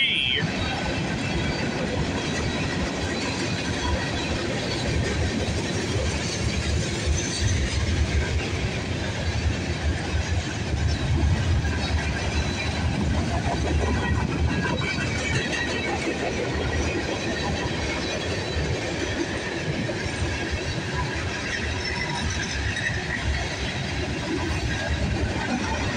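A Norfolk Southern 15M freight train led by two BNSF locomotives rolls steadily past at Bayview Road, a continuous loud rumble with wheel clatter lasting throughout, close by, with a voice speaking briefly over it.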